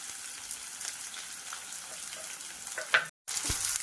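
Onions and curry leaves land in a pan of crackling cumin and mustard seeds. A soft, steady sizzle runs throughout, followed by a brief clatter, a short gap, then a louder burst of hissing.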